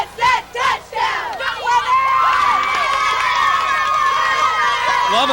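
A crowd of cheerleaders at a 1999 high school football game, Westminster vs Lovett, chants a rhythmic touchdown cheer in loud bursts. Sustained shouting and crowd roar follow and continue to the end.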